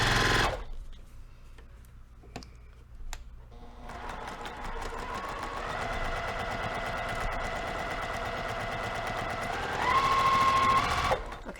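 A sewing machine with a 1/4 inch foot stitches a quilt block, its rapid mechanical whir running steadily for several seconds after a brief start, near and clear.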